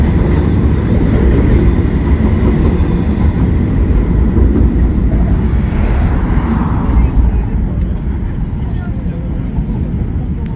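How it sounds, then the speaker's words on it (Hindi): Istanbul tram running over rails while crossing a bridge at night, a steady loud rumble and rolling rail noise throughout with a slight swell midway, city street ambience around it. "Istanbul tram"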